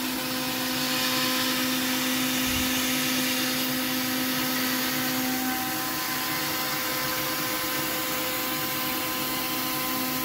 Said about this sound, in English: Spindle starts, gets up to speed. The coolant nozzle swings down.